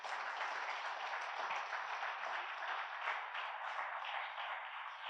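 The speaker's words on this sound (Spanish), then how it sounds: "Dale un aplauso a la palabra del Señor" Church congregation applauding after a sermon reading, a steady dense wash of many hands clapping close and loud for the whole stretch, with no voices over it.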